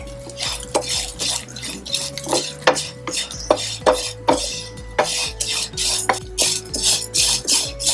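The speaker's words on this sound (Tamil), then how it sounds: "பேன்ல அவலை இந்த நெய்யில போட்டு வறுத்து எடுக்கலாம்." Rice flakes (aval) roasting in ghee in a pan, heard as a busy run of close metallic scrapes and clinks from a spoon stirring against the pan, repeating at a brisk, uneven rhythm with no talking.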